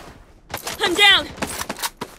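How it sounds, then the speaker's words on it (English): Bursts of gunfire in the shooter Project BloodStrike, sharp cracks in quick clusters, with a game voice calling out between shots. "Enemy spotted. Taking fire."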